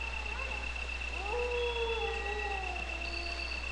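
Dogs howl in the sewer area of the video game Resident Evil: long, wavering, drawn-out cries rising over a steady low hum, fairly faint and distant.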